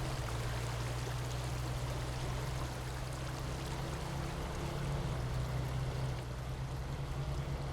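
In the SnowRunner video game, a truck fords a river on the Black River map in Michigan. Rushing, splashing water fills the whole stretch as a steady wash over a low engine hum, with no talking.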